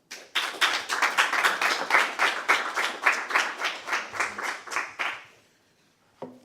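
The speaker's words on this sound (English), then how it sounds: "Please give Christia a warm round of applause." A small crowd applauds steadily for about five seconds, the clapping fading out before a brief faint noise at the end.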